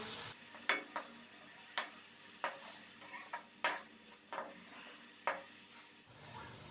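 Spices with red chilli powder fry in a pan while being stirred, giving a quiet sizzle under a series of sharp, evenly spaced spoon scrapes and taps, close and with no talking.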